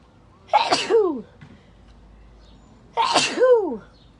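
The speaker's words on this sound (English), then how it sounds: "I'm going to sneeze in a second." Two loud, close sneezes a couple of seconds apart, each with a sharp intake and forceful burst, separated by near silence.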